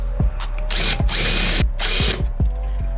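A power drill bores out a rivet holding the VIN plate on a 1992 Miata dash, whirring in three sharp bursts with short pauses and faint clicks between them.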